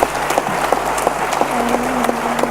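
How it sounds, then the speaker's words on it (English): A conference audience at a justice-delivery session gives a round of applause, a steady wash of clapping with scattered sharper claps throughout, fairly close and continuous, with a faint low hum beneath. "Athawari one more round of applause."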